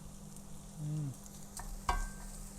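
Filipino longganisa sausages sizzle in a hot frying pan as they caramelise, a low steady sizzle broken by a short stirring scrape and a sharp clack near the end.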